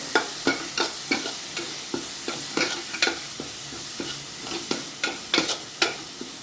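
Masala for matar paneer sizzles in a pan while a spatula scrapes and stirs it in a quick, irregular rhythm of sharp clinks over a soft frying hiss.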